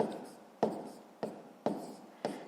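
Pen or pencil writing on paper during a sixth-grade math lesson, with quick scratching strokes in short bursts, about five of them in a steady rhythm, close and fairly quiet.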